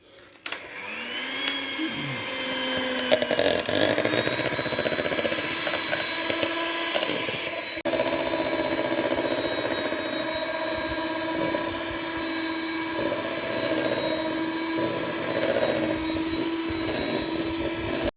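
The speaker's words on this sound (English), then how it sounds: "Daddy's going to use the whisk to make the butter." An electric whisk whips double cream into butter for crepes at home, a loud steady motor whine that starts up after a short rise and holds for most of the stretch, with shifting tones as the cream thickens; no talk is heard.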